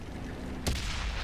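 A single tank cannon shot in World of Tanks: one sharp, heavy boom over a steady engine rumble, fairly close and brief.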